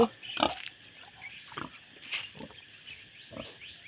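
Pigs on a small farm grunt and squeal in several short bursts spaced through the moment, fairly close and moderately loud, with no voices.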